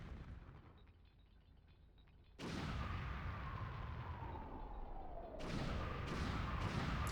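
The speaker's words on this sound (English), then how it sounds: "Yeah, so we have this massive explosion." A massive explosion in the video game Star Fox 64 erupts with a loud sudden boom after quiet rumbling, then a second heavy blast hits a few seconds later and keeps roaring.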